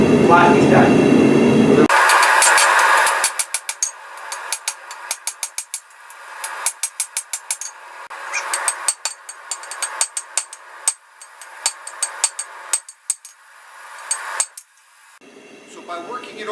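Steel is hammered over the horn of an anvil, a steady run of sharp ringing strikes with brief pauses, preceded by a couple of seconds of roaring forge noise.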